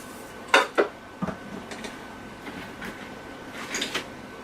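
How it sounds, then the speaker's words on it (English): Metal cookware from a Jetboil Genesis camp stove kit clanks and scrapes as a frying pan is lifted and set down, a few sharp knocks followed by lighter rattles, close by with no talking. "Here's the frying pan."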